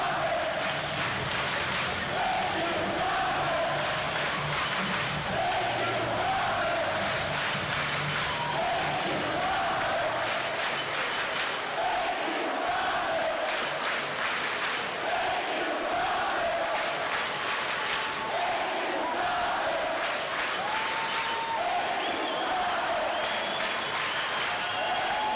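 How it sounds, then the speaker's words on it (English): Hockey arena crowd at a Calder Cup Finals Game 5 in Manchester, celebrating the Monarchs' series-winning victory with sustained roaring cheers, applause and whoops, dense and unbroken throughout. "And the crowd is all you need to hear right now."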